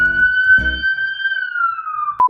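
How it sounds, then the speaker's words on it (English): A siren passes outside, a single sustained wailing tone that holds steady and then slowly falls in pitch before cutting off, with a brief low thump partway through and a sharp click at the end. "the siren's outside. I'm gonna have to wait for that."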